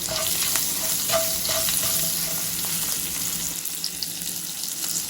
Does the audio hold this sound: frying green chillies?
yes